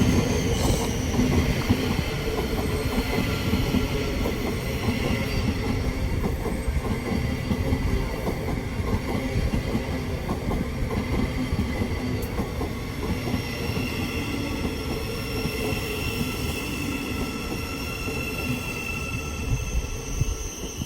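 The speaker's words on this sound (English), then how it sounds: "Coming in now is a Thameslink service from Bedford to Brighton." Thameslink Class 700 train arriving at West Hampstead station on the Bedford to Brighton service, a continuous loud rumble of wheels with rhythmic clickety-clack and faint squeal throughout, no voices.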